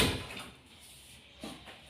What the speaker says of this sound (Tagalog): Ano po, sasara mo lang po ang pinto.